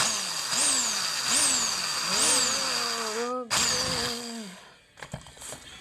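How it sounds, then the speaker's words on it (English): A power drill drives a screw into a lighting enclosure in several short whirring bursts, each pitch rising and falling as the motor spins up and slows, close and loud, ending in a brief clatter. "Drilling, drilling, drilling."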